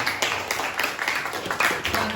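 A classroom of primary school students claps for a group that has just finished presenting, a short burst of scattered, moderately loud hand claps.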